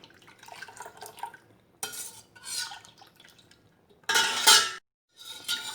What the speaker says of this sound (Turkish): Şimdi biz bunu karıştırıyoruz.